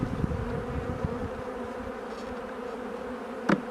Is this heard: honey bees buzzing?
yes